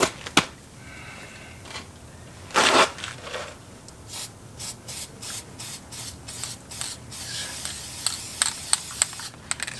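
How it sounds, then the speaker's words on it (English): Short hissing bursts of an aerosol brake quiet spray onto brake pads, one longer blast followed by a rapid series of quick sprays, close by with light handling noises. "Spray that on the brake pads."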